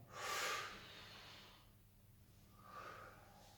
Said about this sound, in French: on demande au patient de bien respirer